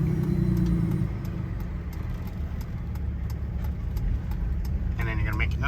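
A car drives along a rural road near Indaco in northern British Columbia, heard from inside as a steady, close low rumble of engine and tyres that continues with little change.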